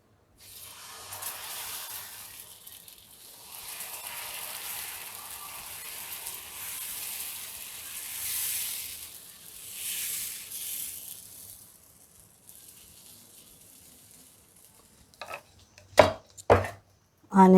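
Moong dal pesarattu batter with onions spread across a hot pan, giving a soft, wavering sizzle that swells and fades for several seconds before dying away, followed by a few sharp knocks near the end.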